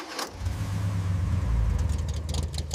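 A restored Chris Craft Cobra boat engine fires up after a short catch, then settles into a steady, loud, deep rumble that carries on without any talk.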